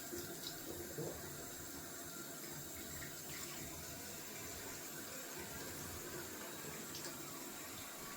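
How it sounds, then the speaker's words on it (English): Tap water runs steadily over the top of a shaving soap puck, a constant close rushing splash that lasts throughout with no talking. "And then I always rinse off the top of my puck."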